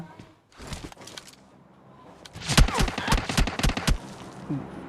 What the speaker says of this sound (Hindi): मेरे पे किसी ने फायर किया